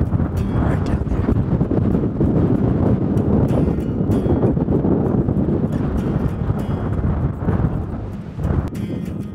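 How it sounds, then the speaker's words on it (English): Strong wind buffets a microphone outdoors on a hunt, a dense, roaring rumble that stays loud and unbroken throughout with gusty fluctuations. "You can't hear me. It's too windy."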